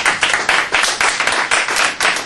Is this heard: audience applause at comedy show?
yes